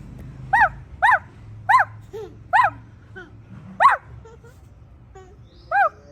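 A child imitates a dog, giving a series of sharp, high yipping barks spaced about half a second apart, with brief pauses between bursts.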